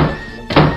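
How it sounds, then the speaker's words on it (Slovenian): A wolf knocks on the door of a house in an animated children's fairy tale, giving a single dull thunk over a faint background bed. "Vuk i na trećoj kući pokuca na vrata i dozove"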